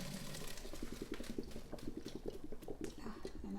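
Boiled rice for Persian rice is drained in a kitchen, with water splashing and pattering through a strainer in a busy, close, irregular rush.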